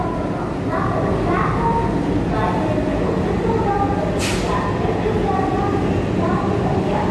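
Local train at Secunderabad station, a loud continuous rumble of carriages rolling past close by, with rhythmic clatter, a brief hiss near the middle and faint murmur of voices mixed in.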